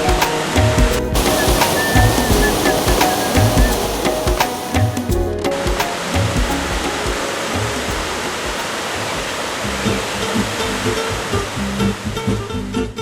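The Kamianka waterfall in Ukraine's Skole district roars steadily nearby, a thick continuous wash of falling water with no pauses.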